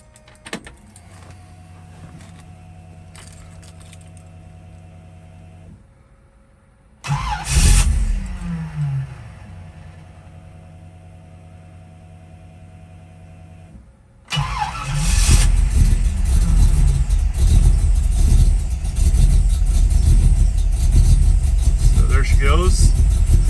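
A 1968 Pontiac Firebird with a 428 V8 cranks and fires twice, settling each time into a loud, rough idle, with a quieter electrical hum before the starts.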